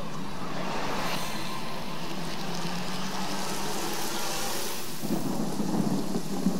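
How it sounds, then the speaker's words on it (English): Magical rain and thunder called up by a rain scroll in the fantasy role-playing game Divinity: Original Sin: a steady, close downpour hiss under low rolling thunder that swells louder near the end, with no talking. "The rain scroll that we picked up earlier."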